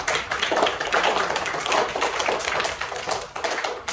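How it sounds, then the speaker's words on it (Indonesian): A class of children claps for a classmate after a pantun recital, a brisk, dense patter of small hands close by and fairly loud, continuous through the moment without talk. "tepuk tangan untuk Sentero"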